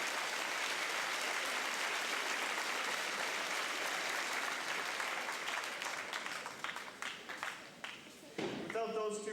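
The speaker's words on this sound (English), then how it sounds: "Let's give this group a round of applause" A large crowd applauds at a high school academic awards assembly, a dense, sustained roar of clapping that thins toward the end as a few louder claps and a voice break through.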